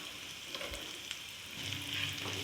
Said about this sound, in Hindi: भून लूँगी मैं डालूँगी हरी मिर्चें।